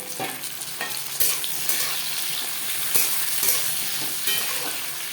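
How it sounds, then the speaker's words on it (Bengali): Onions and tomatoes frying in a thick aluminium kadai, a continuous bright sizzle with a few scraping stirs of a spoon, close and moderately loud, no talking. "পেঁয়াজের সাথে টমেটো ভেজে নেব"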